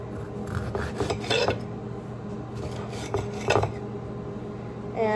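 A knife slicing around the seeds of a vegetable on a cutting board, giving soft scraping and rasping strokes in a few short bursts over a low steady hum, with no talking.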